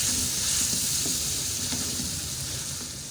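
Masala for a ridge gourd (toori) handi frying in a pan, a loud, dense, continuous sizzle and hiss heard close up, with faint stirring underneath and no talk.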